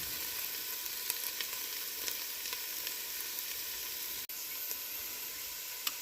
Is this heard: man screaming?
no